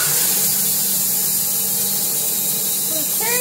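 Sawmill blade cutting a two-inch slab from a hollow box elder log: a loud, steady whining roar of the cut that fills the whole stretch, with a rising tone near the end.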